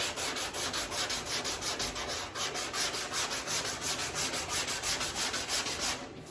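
A sanding stick strokes back and forth across a concave panel on a C10 show truck body, steady rhythmic rasping at close range with about two strokes per second and no voices.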